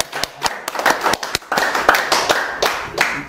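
An audience at a lecture hall claps in response to a speaker, starting as a few sharp, separate claps and building into fuller, denser clapping from many hands, loud and close.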